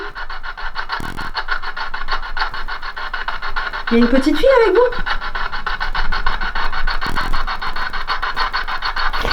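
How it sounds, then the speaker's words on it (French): A rasping, sawing-like scrape repeats in a steady rhythm on an abandoned street during a paranormal investigation. It runs continuously at moderate loudness while a person speaks over it. "on entend un bruit de scie"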